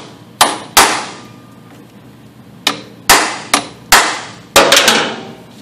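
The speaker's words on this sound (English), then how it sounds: "when I hit this, it has to take the gap up first before it even attempts to drive the fastener out" Hammer blows striking a manual impact driver to loosen a tight fastener: about eight sharp metallic strikes in uneven clusters, loud and close, each with a brief ringing decay and no talk.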